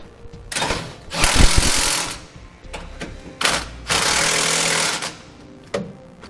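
Bursts of a power impact wrench tightening nuts on an RV frame while fitting a Roadmaster rear anti-sway bar to a 2016 Thor Windsport, two long loud rattling runs with short taps between, close by.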